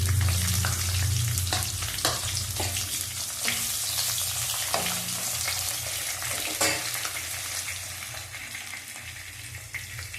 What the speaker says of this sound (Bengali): আগে বেগুনটা ভেজে আমি তুলে নেব ফোড়নের মধ্যে